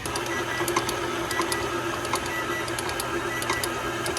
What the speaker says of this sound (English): Turn the mixer back on, and then just slowly add our flour and salt.